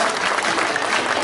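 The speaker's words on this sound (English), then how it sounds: "Big round of applause for Martha the Mule." A crowd at a sheep show claps for Martha the Mule, a brief burst of steady, fairly close applause.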